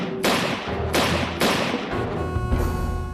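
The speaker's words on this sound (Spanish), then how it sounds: "Este bajó del vehículo y se puso a disparar." Several sharp gunshots in quick succession, loud and close, with a brief ringing tail after the last.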